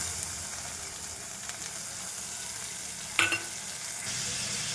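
A paste of chilli, cumin and turmeric powder mixed with water hits hot oil for a papaya and chickpea curry, giving a steady soft sizzle with one brief clatter, then a slightly louder hiss near the end.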